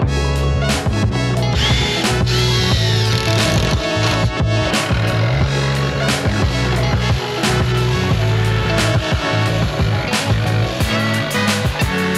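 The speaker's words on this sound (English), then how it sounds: "drill a hole big enough for my jigsaw blade to fit through in one of the corners" A power drill bores a hole through a camper van roof, its motor whining steadily at close range with rhythmic bursts and clicks as the bit bites, loud and continuous with no talk.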